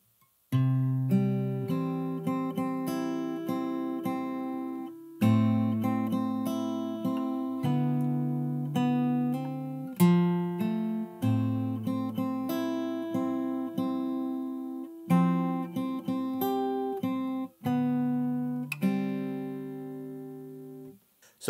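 Fingerstyle acoustic guitar plays the pre-chorus of a song, with plucked bass notes and ringing melody notes falling in a steady pattern, played alone at moderate volume.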